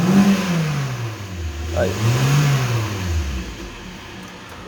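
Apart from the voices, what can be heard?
Peugeot 307 engine running and revving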